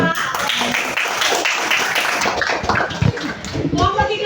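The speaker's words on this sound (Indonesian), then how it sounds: "Berikan tepuk tangan untuk kelompok 2." Classroom students clapping for a presenting group, a quick ragged burst of close hand claps with voices mixed in throughout.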